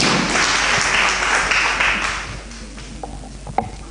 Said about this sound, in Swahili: makofi mazuri kwa wana junior